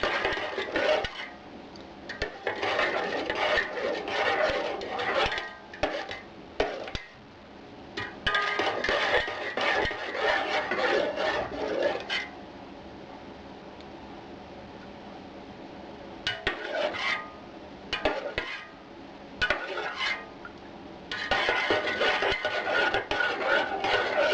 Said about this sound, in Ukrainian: гарненько треба розмішати